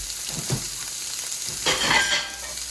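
Food cooking in a pan while making jerk salmon with honey-glazed vegetables, with a close, steady sizzle, a couple of stirring scrapes early and a louder hissing swell near the end.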